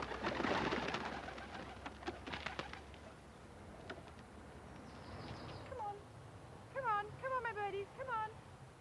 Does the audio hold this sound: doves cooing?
yes